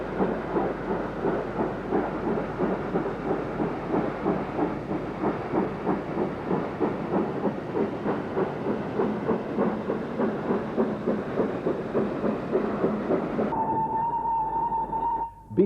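Steam locomotive Pendennis Castle working at Oxford, with a steady rhythmic chuffing that carries loud and close for most of the run, then cuts to a quieter scene with a sustained whistle-like tone near the end.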